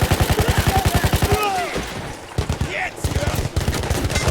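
Rapid gunfire from the video game Battlefield 1 bursts out in loud, evenly spaced rounds, pauses briefly, then resumes in a second rattling volley.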